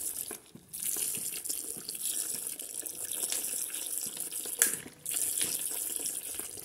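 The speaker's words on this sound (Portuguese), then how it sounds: "agora eu vou colocar 750 ml de vinagre de álcool" White alcohol vinegar poured from a bottle into a container while making homemade soap, a steady near liquid stream running for several seconds with a brief pause midway, no talking.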